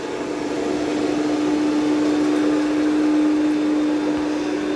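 A Yeedi M12 Pro+ or Roborock Qrevo MaxV self-emptying robot vacuum and mop runs in a kitchen with a steady, close motor whir and a constant tonal hum, no voices.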